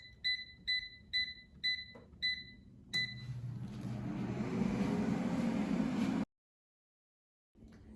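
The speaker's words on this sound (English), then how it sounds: "Now the air fryer is done cooking," An air fryer ends its cooking cycle with six evenly spaced electronic beeps, followed by a whooshing fan hum that runs for a few seconds and then cuts out.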